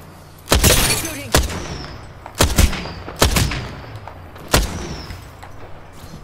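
Video game gunfire in a shooter, four sharp, loud shots spaced a second or so apart, each with a short ringing tail over low background noise.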